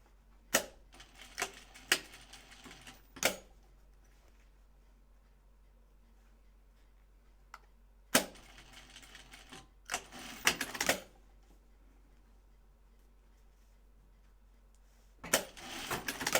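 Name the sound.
sewing machine stitching down a label on a bag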